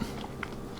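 A single close bite and soft chewing of a piece of sausage cooked with spaghetti in a multicooker, brief and fairly quiet.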